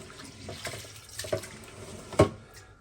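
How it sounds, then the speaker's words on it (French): Water runs from a tap while chicken is rinsed in a sink, a soft, uneven splashing with a few louder sloshes and clinks. "Et là, premier rinçage."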